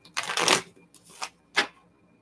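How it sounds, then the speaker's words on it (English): Cards riffle in a short shuffle followed by two quick, crisp card snaps, close and clear with no talking. "Give me just a second to shuffle these cards just a little bit."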